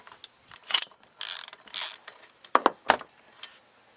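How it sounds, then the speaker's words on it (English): A spark plug being removed from a Ryobi 990R engine with hand tools: close, sharp ratcheting clicks in short bursts, along with metallic rattles and scrapes. No voices are heard. "we're going to disconnect the spark plug boot, and we're going to remove the spark plug"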